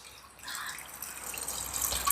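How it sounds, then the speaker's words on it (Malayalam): Water pours steadily into a pot of lentils for about two seconds, a continuous splashing stream that grows slightly louder and fuller toward the end, with no voices. "ഇനി നമുക്ക് പരിപ്പ് വേവാനായിട്ട് വെള്ളം ഒഴിച്ച് കൊടുക്കാം"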